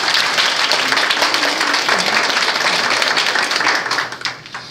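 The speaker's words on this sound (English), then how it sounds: "So if we can give our parents a round of applause." Warm round of audience applause for parents at a community PhotoVoice presentation, loud and dense clapping that tapers off near the end, with a faint voice underneath.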